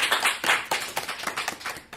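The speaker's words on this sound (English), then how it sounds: "We could have everyone in the room give a round of applause to that." A small room of people gives a brief round of applause, close and fairly loud, with uneven clapping bursts that rise and thin out over about two seconds.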